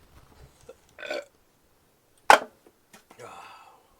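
Loud burps after drinking Bubly sparkling water, a few separate belches, one sharp and forceful in the middle, with quieter gulping sounds around them.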